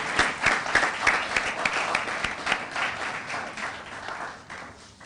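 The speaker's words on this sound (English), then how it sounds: "I think that deserves another round of applause." An audience at a bullying-prevention launch event in a hotel applauds, a dense burst of many hands clapping close and loud, gradually tapering off.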